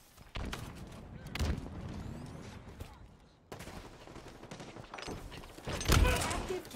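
Gunfire in Halo Infinite during an online match: rapid bursts of automatic shots and sharp impacts, loud and repeated across the stretch, with in-game chatter mixed underneath.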